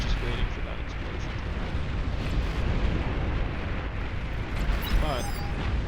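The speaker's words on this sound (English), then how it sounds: "I'm just waiting for that explosion." Explosions booming through a naval battle video game, a dense continuous rumble of blasts with scattered bursts and pops, with a voice talking over the din.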